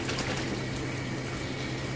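Steady, broad hiss of tap water spraying for a pet bird's shower in a splash bath, continuous and fairly loud at close range with no talking.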